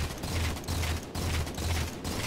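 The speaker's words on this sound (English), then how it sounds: "Now I'm going to use up the entire clip." Battle rifle fire in Halo 4 as a full magazine is emptied, a loud, dense stream of rapid shots in several bursts with brief pauses between them.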